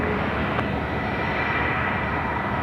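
Malaysia Airlines Airbus A330-300 jet at Sydney Airport, a steady, broad engine roar held at an even level for the whole stretch, fairly distant, with no talk.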